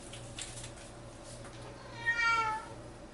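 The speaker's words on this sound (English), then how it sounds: "Kitty." A cat gives a single short meow at moderate distance, rising briefly out of a steady low background hum in a kitchen setting.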